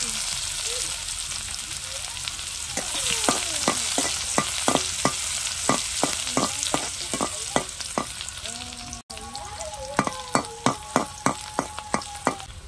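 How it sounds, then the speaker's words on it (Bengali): Finely chopped onions fry in oil with cumin seeds, a constant sizzle beneath a run of sharp, regular spatula scrapes and taps against the pan that quicken toward the end. "এবার আমি কুচি করে রাখা পেঁয়াজগুলো দিয়ে দিচ্ছি"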